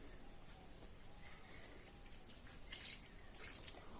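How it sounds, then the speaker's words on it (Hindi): Water poured little by little onto potted plants in a room, heard as a faint, steady trickle with scattered soft drips and splashes and no talking. "थोड़ा थोड़ा करके मैं पानी डाल दूंगी ऐसे।"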